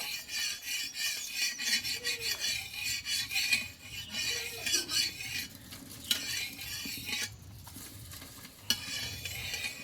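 A spoon spreads white oil across a hot tawa, making a close, rasping scrape and stirring sound over a soft sizzle, with a few sharper metallic knocks toward the end and no talk.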